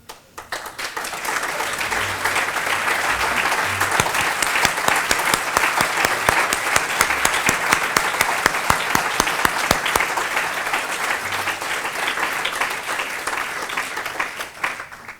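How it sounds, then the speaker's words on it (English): An audience at a remembrance event with Holocaust survivor Eddie Jaku gives sustained, loud applause as rows of survivors stand up, the clapping swelling and holding evenly for about fifteen seconds before fading at the end. "Please stand up, because I think you also deserve a round of applause."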